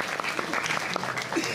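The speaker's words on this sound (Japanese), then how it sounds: "みんなケイタに拍手をしようぜ。" An audience at Turtle Talk in Tokyo DisneySea claps in a dense, steady patter of applause, close and lively, with voices mixed in underneath.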